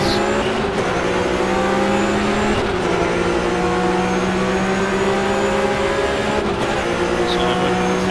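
Race car engine in the rFactor 2 racing game drones steadily at high revs with shifting tonal whine, brief dips as gears change, loud and continuous with no talking.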